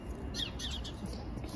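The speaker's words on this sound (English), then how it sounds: "We've found a sparrow in our hedge." A house sparrow caught in a garden hedge gives a couple of short, high chirps close by against a steady, hushed outdoor background.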